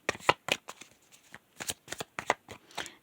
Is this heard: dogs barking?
no